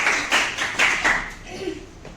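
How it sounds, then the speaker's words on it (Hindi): A few scattered claps from a small audience welcoming Pinki at a girls' leadership and motivational performance test, sparse and uneven, fading quickly. "तालियां हो जाए पिंकी के लिए, पिंकी के लिए।"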